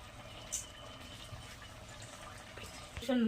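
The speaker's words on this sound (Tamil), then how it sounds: "இப்போ கொஞ்சம் தேவையான அளவு தண்ணி ஊற்றிங்க" Water splashes steadily into a pot of soaked rice close by, with a voice talking over the running liquid.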